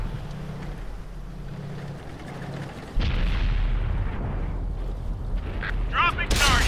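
Deep booming tank gun shot in World of Tanks, a heavy blast with a rumbling tail after a stretch of engine hum, followed by a sharper whistling crack near the end.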